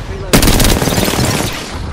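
Apex Legends gunfire bursting in suddenly after a brief quiet, a loud rapid volley of automatic shots that keeps rattling with a few uneven pulses.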